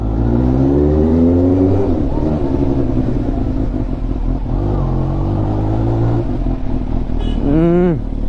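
Motorcycle engine and exhaust while riding slowly through a narrow lane at about 30 km/h, a loud continuous rumbling drone with shifting pitch and a brief rising rev near the end, no talk.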